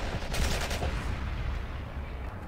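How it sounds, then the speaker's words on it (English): Gunfire in the World War II shooter Forgotten Hope 2, a dense burst of rapid shots in the opening second, then fading into a rumbling, noisy battlefield wash. "Something's shooting at me from behind."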